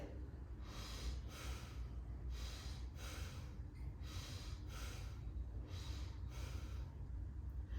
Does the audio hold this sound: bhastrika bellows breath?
yes